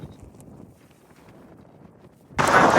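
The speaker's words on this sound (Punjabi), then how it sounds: "ਹਵਾ ਚੱਲਦੀ ਆ ਤੇ ਹਵਾ ਬੜੀ ਚੱਲਦੀ ਆ" Near silence gives way to a sudden loud rush of wind buffeting the microphone, roaring for the final moments.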